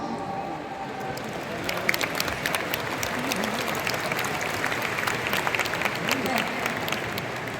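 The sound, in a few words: seminar audience applause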